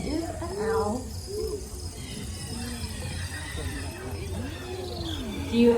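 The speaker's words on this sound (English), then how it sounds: "This is an owl." An owl hoots at a zoo bird show in Sydney, a few soft, low hoots rising over crowd murmur and outdoor ambience, with people talking nearby.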